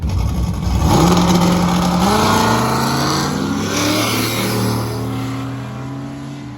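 Hot rod Oldsmobile accelerating hard down a drag strip, a loud close engine roar rising steadily in pitch through the gears, then fading slightly as it pulls away.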